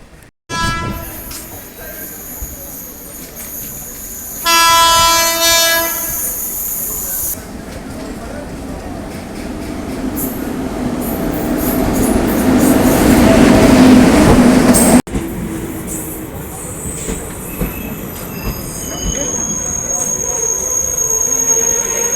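A train approaches a railway station with a loud horn blast, then rumbling wheels build to a squealing roar as it rolls in close, before quieter station ambience.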